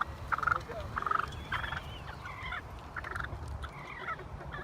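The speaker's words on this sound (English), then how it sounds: "This turkey's chasing a golf cart." Turkeys gobble repeatedly in bursts outdoors while one chases a golf cart, the calls overlapping over steady background noise and a low rumble, with no talking.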